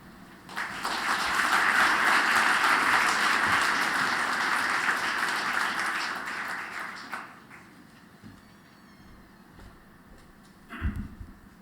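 An audience at a harmony and respect training event applauds for a secretary, a loud sustained round of clapping lasting several seconds before fading out, followed by a brief knock near the end.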